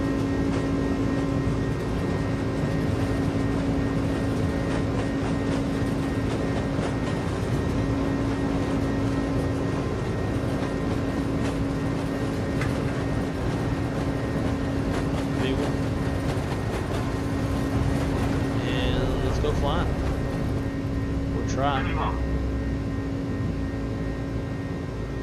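Airbus A300 engines spool to takeoff thrust in a winter-weather flight simulation, a sustained loud roar with a droning tonal hum, and brief voices surface near the end.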